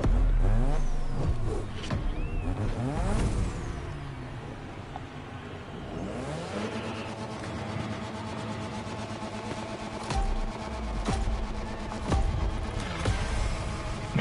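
A Mazda RX-7 engine in The Crew Motorfest revs up and down repeatedly, rising and falling in pitch with sharp bursts, up close and loud, with game-like effects.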